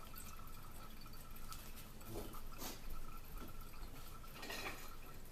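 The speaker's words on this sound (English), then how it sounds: "let it just drip into the jar" Cold brew coffee drips and trickles through a filter into a jar, a soft steady watery patter with a few louder splashes from close by, alone and without talk.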